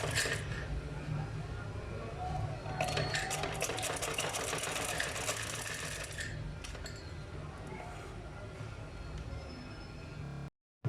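A sewing machine stitches a blouse neckline with a steady, dense mechanical chatter that runs close and continuous for about ten seconds, then stops abruptly.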